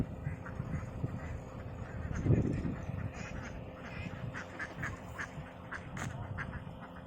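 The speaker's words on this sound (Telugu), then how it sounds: "ఎన్ని బాతులు ఉన్నాయి చూడండి" Ducks quack steadily from a village pond ringed by crop fields and hills, a busy chorus of overlapping calls at moderate distance with a louder burst near the middle.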